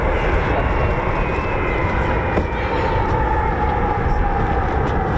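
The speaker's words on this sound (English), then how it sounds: "C-17 Globemaster." C-17 Globemaster transport aircraft with Pratt & Whitney F117 turbofan engines, a loud, steady jet roar with a high whine, sustained and close throughout at an air force base.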